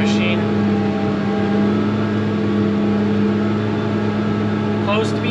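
A farm hay machine with a shaking gearbox runs loud and steady, a constant mechanical drone with a strong hum and no break in the noise.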